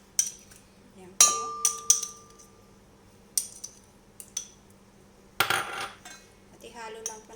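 Parsley mixed into butter in a large mixing bowl, giving scattered clinks and scrapes of a utensil against the bowl, with a burst of louder clattering midway and quieter scraping toward the end.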